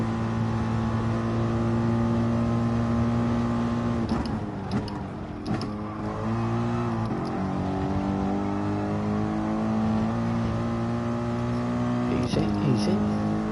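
A car engine in the Gran Turismo Sport racing game drones steadily, with short gear-change dips and renewed revving that climbs again near the end, held below the limiter while a voice talks over it in places.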